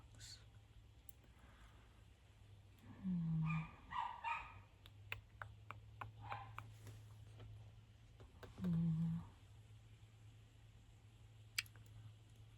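Dogs bark twice in the distance, two short muffled bursts several seconds apart, set against a low hum and scattered faint clicks in a quiet audio drama scene.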